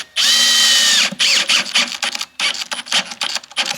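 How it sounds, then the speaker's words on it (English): A power drill drives screws into wood: one loud continuous whine is followed by a choppy series of short, stuttering bursts as the screw seats, all close up with no talking. "This drill fits in there a little better"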